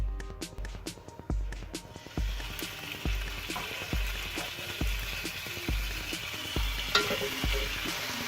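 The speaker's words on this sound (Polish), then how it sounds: "na tym tłuszczu, co pozostał po tej cebuli, na tym będziemy obsmażali piersi" Steady sizzling and crackling of chicken breasts frying in fat left from onions in a hot pan, with occasional clinks and stirring noises over the constant hiss.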